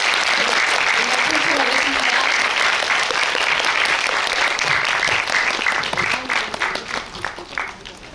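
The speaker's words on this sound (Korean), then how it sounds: "배우와 감독님들에게 뜨거운 박수 부탁드리고" Enthusiastic applause from a film festival audience at the Seoul Independent Film Festival screening, a dense sustained roll of clapping that thins into scattered individual claps near the end, with some voices underneath.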